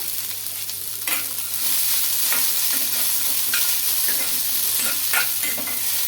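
Ginger and garlic fry in a pan with a constant close sizzle, while a spoon stirs and scrapes in irregular strokes, the hiss briefly swelling after each stir; nobody speaks.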